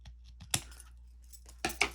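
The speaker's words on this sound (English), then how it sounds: "I'm going to snip there." Scissors snipping paper for a garden folio craft tag, a few crisp close cuts with a pair of sharper snips near the end.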